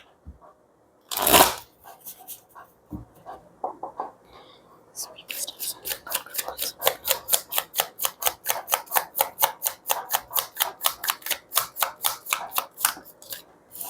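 Tarot cards are riffle-shuffled up close: after a sharp burst and a few soft handling noises, a long, rhythmic stream of crisp card flicks follows, with a quiet voice heard briefly.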